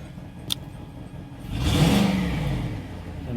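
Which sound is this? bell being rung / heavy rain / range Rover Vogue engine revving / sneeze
range Rover Vogue engine revving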